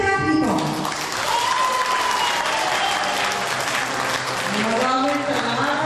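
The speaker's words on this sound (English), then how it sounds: "Introducing, ladies and gentlemen, big applause for Conchita Hipo." Audience applause for a speaker at a Filipino community business society event, a continuous, even clapping roar that fills the whole stretch while a faint voice and music carry underneath.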